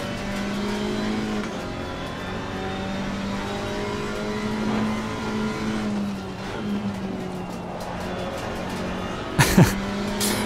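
Alpine A110 GT4 race car in Assetto Corsa Competizione, a steady engine drone held through a long stretch of a lap, with a brief sharp burst near the end.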